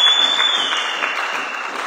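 A church congregation at a Sunday service breaks into loud, sustained applause, a thick wash of many hands clapping together close by, with a faint steady tone ringing above it.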